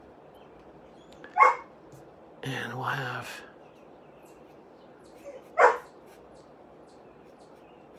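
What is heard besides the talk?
dog barking and whining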